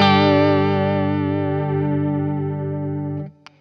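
Electric guitar played through distortion and a Wampler Terraform modulation pedal, one sustained chord ringing with a wavering shimmer for about three seconds before being cut off, followed by a faint click.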